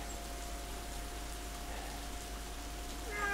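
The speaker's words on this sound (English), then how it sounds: "It started raining again." Soft, steady hiss of rain falling on a camper van, even and continuous with a faint low hum underneath.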